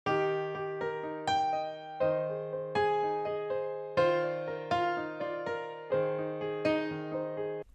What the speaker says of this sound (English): And if you expand that into a broken chord, it sounds like this.